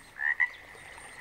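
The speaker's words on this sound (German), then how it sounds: "Aus der Winterruhe erwacht sind die Kröten" Toads just out of winter rest call during spawning, two short close croaks near the start followed by a fainter trailing trill, with no voices.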